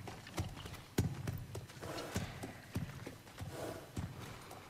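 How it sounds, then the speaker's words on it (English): Hooves of a horse in the video game God of War Ragnarök clop at a walking pace, a steady series of sharp, close knocks over a soft background. "there's a horse! There's a horse in the game!"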